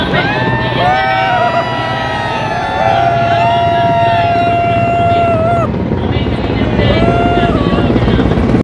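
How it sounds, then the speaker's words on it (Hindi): Helicopters fly over a Republic Day parade, their rotor drone low and steady beneath a crowd and whistling, wavering tones, with loudspeaker commentary throughout. "हेलीकॉप्टर्स पुष्प वर्षा करेंगे सभी लोगों पर।"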